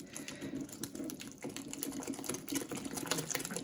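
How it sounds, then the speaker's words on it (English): Thick American-style pancake batter whisked by hand in a bowl, a steady, busy run of quick rhythmic scraping and tapping strokes close by, with no talking. "So it's all going to get whisked in together till it's all combined"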